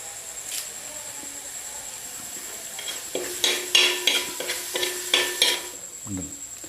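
Spices being stirred in a frying pan for a tamarind sugar chicken fry: a quiet sizzle at first, then a run of rhythmic spoon scrapes and clinks against the pan in the second half.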